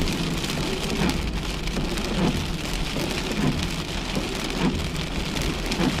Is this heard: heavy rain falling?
yes